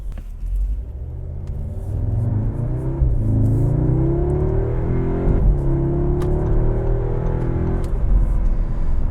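A 2022 Audi S3 accelerates hard, heard from inside the car as a deep engine rumble that rises steadily in pitch, drops briefly at a gear shift and climbs again.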